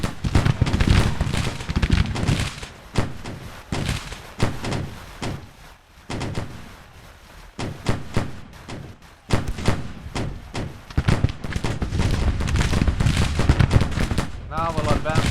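Musket and artillery gunfire in the Civil War strategy game Grand Tactician, with dense, irregular volleys of shots and thuds rolling on continuously, loud and close, with some speech-like sound mixed in.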